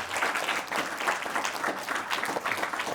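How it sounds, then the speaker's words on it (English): A group in South London applauds a visiting actor with lively, close clapping that stays loud and even throughout, with faint cheering mixed in. "So please, please give him a round of applause to thank you for his time"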